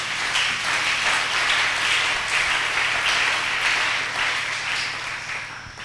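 A church congregation applauds in praise, sustained dense clapping from many hands that holds steady and fairly loud throughout, then tapers slightly at the end, with no talking over it.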